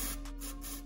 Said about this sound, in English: I'm gonna put some copper spray on it